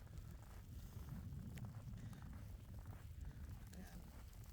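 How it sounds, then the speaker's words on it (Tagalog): Steady, broad wind rushing outdoors in snowy Canada, a constant low roar with gusty fluctuations and no voices. "naririnig niyo yung hangin"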